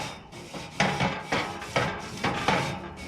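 A smoker grill grate is scrubbed quickly before spare ribs go on, giving several loud, evenly spaced rasping strokes of a brush dragged across the metal bars, close to the mic with no talk.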